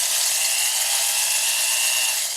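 A cylinder hone is stroked up and down inside an engine cylinder during a Chevy S10 V8 swap, making a steady, loud, close abrasive whir with no pauses.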